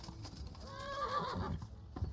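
A horse in the medieval video game Kingdom Come Deliverance gives a clear, wavering whinny at mid distance, with soft hoof clops under it and no talk.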